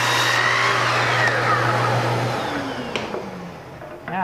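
A power saw makes a square 90-degree butt cut through trim for a Greek Revival window or door head. The motor whines loud and close for about two seconds, then spins down, with a few light knocks afterward.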